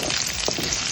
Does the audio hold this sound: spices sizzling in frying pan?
yes